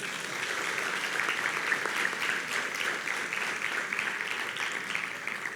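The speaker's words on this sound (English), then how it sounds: "Clap yourselves." Steady, sustained applause from a graduation audience at a technical high school, a dense wash of many hands clapping evenly throughout with no voice above it.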